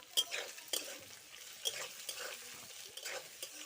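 Onions and potatoes fry softly in a pan with a faint sizzle, while a spoon stirs and scrapes against the metal in a few sharp clicks.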